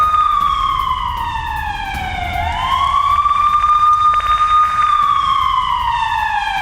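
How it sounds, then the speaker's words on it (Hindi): A loud air raid warning siren in Kyiv rises and falls slowly in pitch, its tone sweeping down, then climbing back and holding, close and dominant. "हवाई हमलों से चेतावनी देने वाले सायरन कीव में बजने लगे।"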